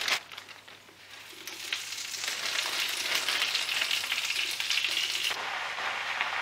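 Spinach wilting down in a hot pan, with a continuous, fairly quiet crackling sizzle that builds after the first second and holds steady, no talking.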